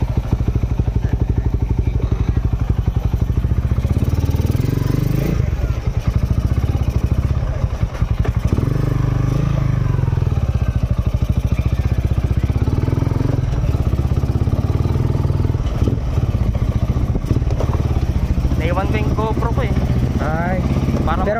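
A Rusi Sigma 250cc motorcycle fitted with Keihin Sudco flat slide carburetors rumbles loudly and steadily on a test ride, its engine droning close up with clattering wind buffeting, and a voice speaks briefly over it.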